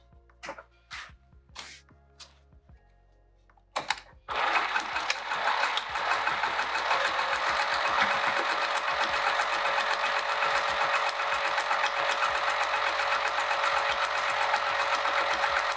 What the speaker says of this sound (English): Let's sew right down this edge.